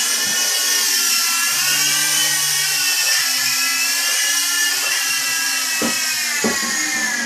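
A radio-controlled SKY WOLF helicopter touches down on a landing pad, its whirring rotor and motor whine steady and close throughout, with a couple of brief thumps near the end as it settles.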